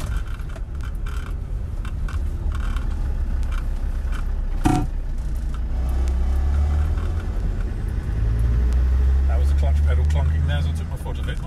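Land Rover Defender 90 TD5 XS station wagon with a sports exhaust, its diesel engine droning steadily while driving on a bumpy road, with a brief knock partway through and a louder surge of engine rumble later on.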